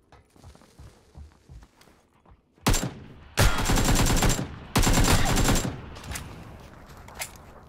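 Shotgun blasts in PUBG on the snow map near a hangar: several loud, dense bursts of fire, some close together, over a quieter stretch of faint background noise and small clicks.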